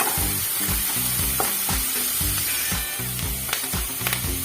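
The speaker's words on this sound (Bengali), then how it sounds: "পেঁয়াজের পেস্টটা দিয়ে একটু ভেজে নেব" Onion paste fries in a pan for a Dhaba-style shahi paneer, with a loud continuous sizzle and rhythmic scraping strokes from stirring, close up and without talk.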